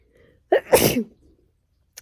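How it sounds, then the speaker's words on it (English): A single sharp human sneeze bursts out loud and close, with a brief inhale lead-in and quiet room afterward, ending with a small click. "So I'm gonna sneeze."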